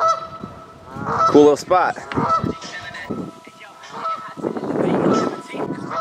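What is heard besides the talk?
duck quacking loudly outdoors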